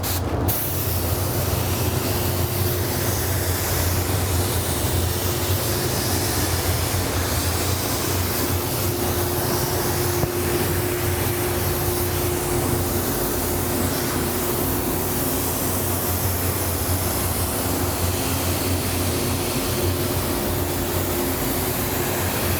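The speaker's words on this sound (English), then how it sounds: "It's all tacked down and ready to spray" A spray gun laying clear coat over candy red paint, a loud, unbroken close hiss of air and spray lasting the whole stretch, with no talk.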